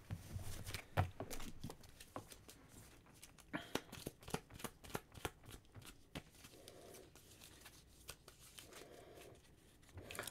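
A deck of cards for the Maquis solo board game being shuffled by hand, quiet repeated riffling and shuffling bursts close by, with soft handling noises between them.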